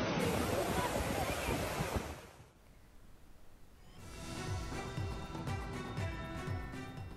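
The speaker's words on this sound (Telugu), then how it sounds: "కాలిఫోర్నియా తీర ప్రాంతంలో తుఫాను ప్రభావంతో భారీగా అలలు ఎగిసిపడుతున్నట్లు తెలుస్తోంది" Large storm-driven ocean waves crash on the California coast, a loud roaring surf for about two seconds before fading, followed by a quieter background bed with a musical tone.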